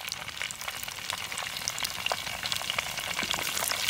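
Mustard, fenugreek and cumin seeds fry in plenty of hot oil, giving a dense, continuous close crackle with scattered sharp pops and a faint stir.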